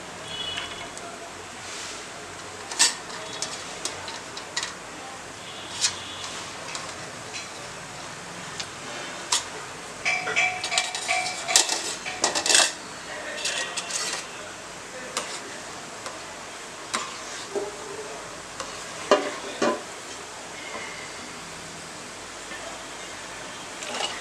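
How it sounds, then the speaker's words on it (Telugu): Cashews fry in oil in a heated pan, a steady soft hiss with scattered sharp pops and crackles throughout, close and continuous with no talk. "మనం బాండి వేడెక్కిన తర్వాత జీడిపప్పులు ముందు వేయించుకుందాం అండి."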